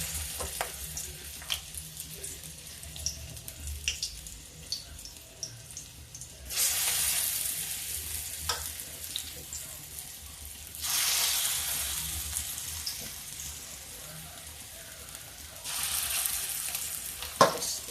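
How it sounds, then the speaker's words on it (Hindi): Pakoras for kadhi drop into hot oil and fry with a soft background sizzle, swelling into three loud bursts of bubbling crackle as batter goes in, with light clinks between, no talk. "अब इसमें मैं पकौड़े डाल रही हूँ।"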